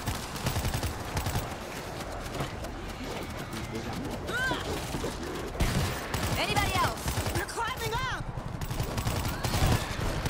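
A video game firefight crackles with rapid bursts of gunfire and heavier booming shots throughout, sometimes under brief spoken voices.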